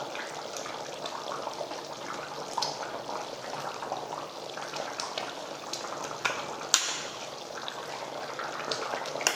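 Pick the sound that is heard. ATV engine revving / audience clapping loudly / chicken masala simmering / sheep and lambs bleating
chicken masala simmering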